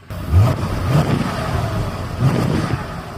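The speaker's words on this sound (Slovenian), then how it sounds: "da ti pokažem še zvok, ki prije ven iz rorov" Exhaust note of a Mercedes S-Class coupe heard up close, a low steady idle rumble with a couple of brief throttle blips swelling and fading, no voices.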